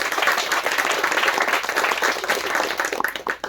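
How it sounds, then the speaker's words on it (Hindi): Audience applause following a song at a Hindi music show, a dense steady wash of many hands clapping close and loud throughout, tapering slightly near the end. "खूब खूब बधाई खूब तालियां उनके लिए"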